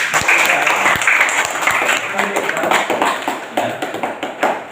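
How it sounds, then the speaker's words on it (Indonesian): Schoolchildren in a primary-school classroom clap together after a math group presentation, a loud burst of applause that gradually thins out with a few scattered claps and voices mixed in. "ya kasih tepuk tangan."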